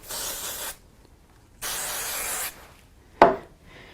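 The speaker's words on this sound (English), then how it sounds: "we'll use a little bit of mounting spray on the back here" Two long hissing bursts from an aerosol can of mounting spray onto the back of a card piece, followed by a short sharp tap, close and fairly quiet.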